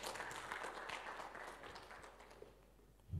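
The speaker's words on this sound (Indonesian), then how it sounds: "Tepuk tangan buat Tuhan Yesus." Church congregation applauding during a sermon, a steady broad wash of clapping held at moderate, fairly distant level throughout, with a slightly sharper burst near the end.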